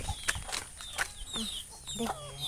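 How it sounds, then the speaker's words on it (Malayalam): Backyard chickens at a home clucking close by in short, repeated bursts, with a few sharper calls among them and no talking. "ഇനി കോഴികളൊക്കെ ഉണ്ട് ഗൈസ്."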